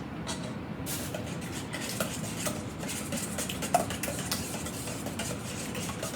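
A whisk beating low-carb, gluten-free pancake batter with vanilla in a bowl, a steady rhythmic scraping and tapping of wire against the sides, close and fairly quiet, continuing throughout with no talking.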